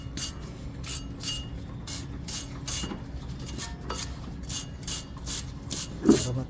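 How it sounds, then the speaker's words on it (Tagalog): A steel brush scrubs rust off brake parts in rhythmic rasping strokes about twice a second, close and steady over a low background hum, with a faint voice briefly heard near the end. "Para matanggal yung kalakalawang guys. Yan, gagamit ako yung steel brush."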